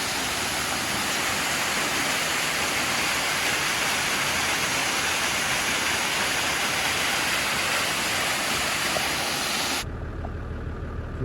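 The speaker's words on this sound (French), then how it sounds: "Petite cascade." A small waterfall on a hiking trail, its steady broadband rush of falling water filling the scene at close range and continuing unbroken until it cuts off abruptly near the end.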